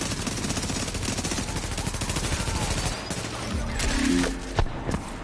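Rapid bursts of automatic gunfire in a first-person shooter video game, dense and continuous for several seconds before thinning into a few scattered shots and a louder thud near the end.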